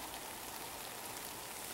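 Steady rain falling through woodland during a deer hunting outing, a dense, even hiss of drops on leaves and ground, unbroken and moderately loud with no voices.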